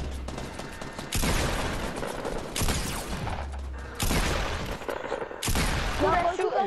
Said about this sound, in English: Who that shooting?